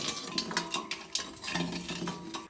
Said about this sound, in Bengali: দুধের মধ্যে একটু এলাচ দিয়ে দেবো, একটু চিনি আর কিছুটা বাতাসা, সব কিছুকে একটু মিশিয়ে নিতে হবে